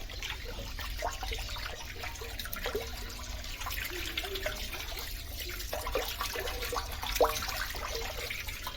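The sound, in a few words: water running from a pipe to clean a tank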